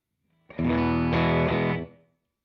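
One electric guitar chord rings through a pedalboard with delay and room reverb, slightly distorted, sustaining for about a second and a half before fading out.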